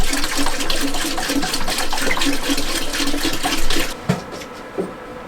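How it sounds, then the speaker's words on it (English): Water pours steadily into a brewing pot for a 12-litre pilsner batch, a continuous rushing splash for about four seconds that then stops, leaving a couple of faint knocks. "Oh, I'll add the water first"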